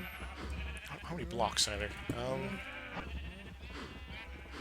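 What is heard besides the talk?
sheep bleating in Minecraft video game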